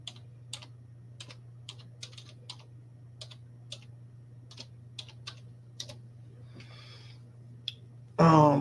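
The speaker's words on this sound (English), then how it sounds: "Let me type it." Fingers tap out a short entry on a computer keyboard: sparse, irregular clicks over a low steady hum, close by and fairly quiet, ending with a sudden loud burst.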